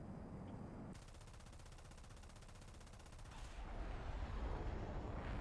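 Rapid machine gun fire from an L-39 jet aircraft in War Thunder, a steady dense burst lasting a few seconds over engine and wind noise, then giving way to louder rushing air.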